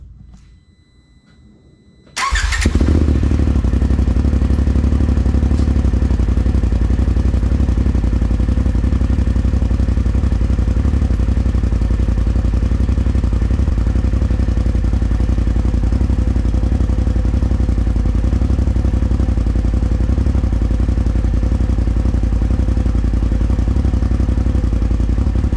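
A 2020 Polaris RZR Pro XP engine fitted with a Trinity Racing full exhaust fires up after a quiet moment, then holds a loud, steady, throaty idle rumble, close by.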